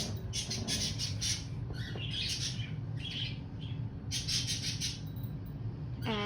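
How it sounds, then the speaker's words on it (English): Pet birds kept in a house squawk and chirp in repeated bright bursts over a steady low hum, close by and fairly loud, with no one talking. "I'm gonna go over by these birds because maybe they'll be quiet."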